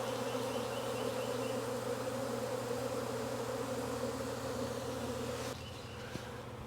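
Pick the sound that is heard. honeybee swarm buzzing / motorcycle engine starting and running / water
honeybee swarm buzzing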